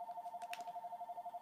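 A home telephone trills with a steady, rapidly warbling electronic ring at moderate volume, with faint background noise and no talking.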